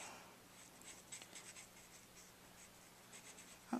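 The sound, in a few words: Copic marker coloring on paper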